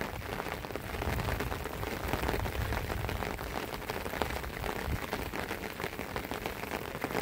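Light drizzling rain falls steadily on surfaces outdoors, a faint, even patter that holds without a break.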